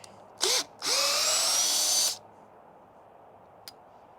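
RIDGID cordless drill driving a fastener, run on an eight-year-old battery: a short whirring burst, a brief pause, then a longer steady high whine of more than a second that stops abruptly, followed by a faint click.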